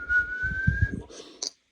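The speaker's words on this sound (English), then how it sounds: "This door would whistle when the air was blowing, or when it gets windy" A door on its frame whistles as wind blows through a gap, a steady thin tone sustained for about a second before a short sharper burst, with soft low rumbles underneath.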